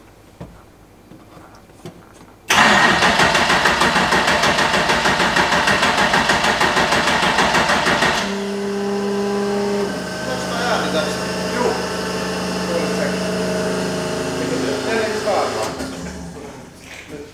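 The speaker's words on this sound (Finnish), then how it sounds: "Nyt mä käynnistän." Nissan Silvia drift car engine cranking for its first start, a loud steady whirring whine that shifts into a rough, uneven idle with a low hum, heard close up with people talking over it.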